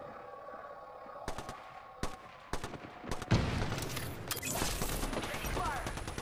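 Gunfire in an Apex Legends Arena match, starting with a few sharp separate shots and breaking into loud, dense bursts of automatic fire over rumbling game noise, with a faint tone humming underneath.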